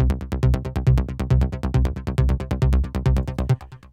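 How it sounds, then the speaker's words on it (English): A synth sub bass joined by an arpeggiated bass line plays steady, evenly spaced pulsing notes, about eight per second, loud and alone, with no voices and a brief tail at the end. "And then if you add in the arpeggiated bass line,"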